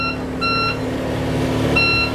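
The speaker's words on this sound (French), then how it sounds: "On va ensuite avoir un petit bip de préchauffage." Two short electronic beeps, each a steady tone lasting under half a second, sound over a low engine hum: the engine preheating beep aboard a Fountaine Pajot Lucia 40 catamaran.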